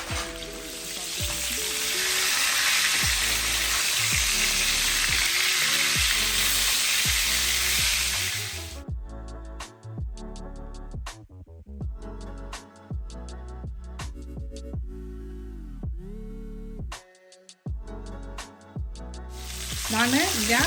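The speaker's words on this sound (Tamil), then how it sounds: "நான் கேஸ் வந்து கொஞ்சம் ஃபாஸ்ட்டாகவே வச்சு தான் வறுக்கிறேன்" Fish coated in masala frying in a pan on a high gas flame: a loud, continuous sizzle for the first several seconds, then quieter crackling with music playing over it.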